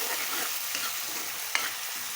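Curry with tomato sizzling and frying in a pan, a steady close hiss that runs on its own with a brief stir near the end.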